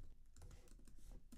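Soft, quick keystrokes clatter on a computer keyboard, faint and close, in an uneven patter with no voices.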